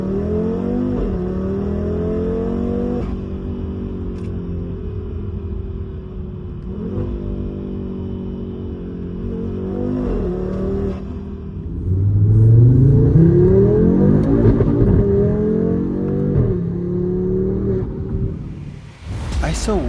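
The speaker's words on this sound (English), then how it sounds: "during the recording of the interior acceleration scenes was that the DJI mic placed above the exhaust didn't fully connect, so you can only hear the sound from the interior" Interior view of a 2026 Audi RS3 Sportback 540 hp five-cylinder under hard acceleration, engine note rising and dropping through several upshifts, loud and close, surging stronger near the end.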